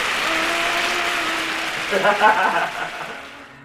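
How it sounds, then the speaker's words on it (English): Applause, a dense clapping wash that swells briefly midway and then fades out toward the end, with some voices mixed in. "All the applause. You hear it?"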